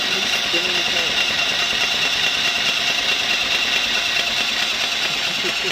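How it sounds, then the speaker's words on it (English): A Suntory BOSS Rapid Can Cooler spins a can rapidly, giving a steady, loud whirring motor drone with a constant hiss that holds unchanged throughout. "rapidly spinning can."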